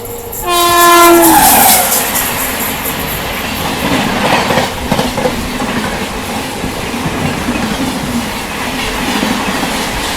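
A Bhubaneswar–New Delhi Tejas Rajdhani express sounds a loud, sustained horn blast as it approaches, then rushes past with a steady roar and rhythmic wheel clatter on the rails, heard at night.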